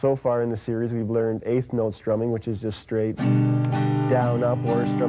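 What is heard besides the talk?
None of the usual background noises is heard.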